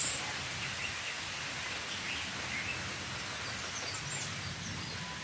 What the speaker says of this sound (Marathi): रिमझिम पावसाची सुरुवात श्रावण मासामधला पाऊस